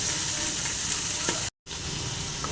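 Pirandai (adamant creeper) frying in a pan for chutney, a steady close sizzle running throughout with a brief dropout near the middle.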